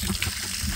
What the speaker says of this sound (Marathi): आता पाणी भरते।